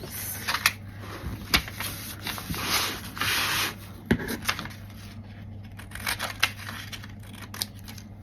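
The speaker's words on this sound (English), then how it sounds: "Now, scissors." Scissors snip through paper at a craft table while pages are being joined, giving a series of sharp, close cuts at an irregular rhythm, interspersed with rubbing and paper handling, with no talk.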